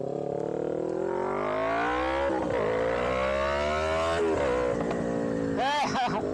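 A Yamaha MT-03 motorcycle with an aftermarket M4 exhaust revs close by, its engine note rising and dropping in several swells before a last sharp blip at the end.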